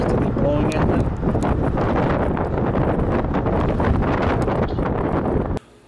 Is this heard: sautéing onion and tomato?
no